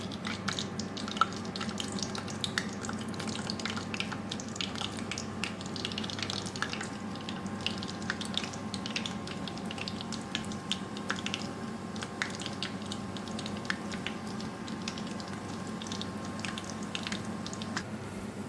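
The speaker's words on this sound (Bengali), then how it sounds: "এবার আস্তে আস্তে আমি প্রতিটা খাবার ভেজে নেব।" Fish and flour snacks fry in hot oil with a continuous quiet hiss and light crackling throughout, unbroken by speech.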